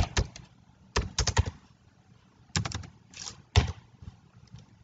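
Computer keyboard keys clack in short, irregular bursts of clicks separated by pauses, with a few firmer single presses like the Enter key, close and moderately loud.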